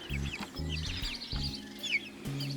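Backyard chickens cluck in short repeated bursts, close and moderately quiet, with higher chirps from six-week-old chicks scattered over the top and no one talking.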